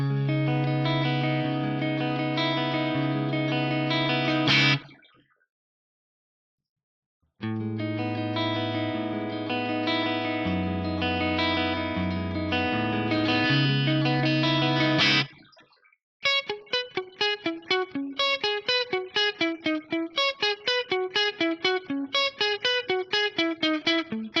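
Shimmering guitar chords ring out with a wavering, modulated delay echo in TC 2290 style on a Fractal unit, pause, return, then give way to a rapid run of picked notes trailing repeats.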